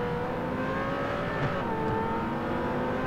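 A Corvette Z51 Stingray engine in the Real Racing 3 video game holds a loud, steady revving drone with a dense throaty rumble, heard alone and close.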